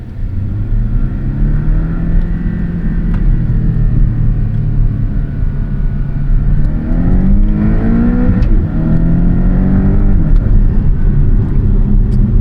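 A turbocharged Porsche Cayman drives in manual mode, its engine rumbling loudly from inside the cabin and rising in pitch through repeated throttle pulls and gear changes, with no voices over it.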